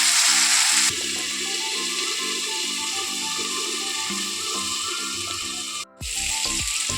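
A tomato mixture fries in a pan with a continuous bright sizzle and hiss. A tonal hum runs underneath, and the sound breaks off briefly near the end.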